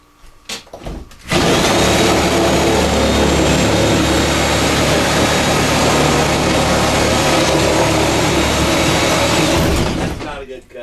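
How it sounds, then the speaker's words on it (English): Porter Cable sawzall reciprocating saw cutting through material, a loud continuous buzzing rasp that starts abruptly after a brief quiet moment, runs steadily for about nine seconds, then stops. "Got a Porter cable sawzall here."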